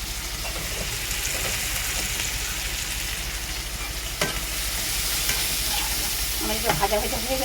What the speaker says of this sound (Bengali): শিমটা একটু ভাজা ভাজা হয়ে গেছে, হালকা করে ভেজে নিচ্ছি শিমটাকে